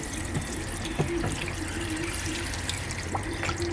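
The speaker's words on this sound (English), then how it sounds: "let's see how the water comes out of his mouth now." Water pours steadily from the mouth of a pond fountain statue, a close, continuous splashing flow with a few small drips and plops over it.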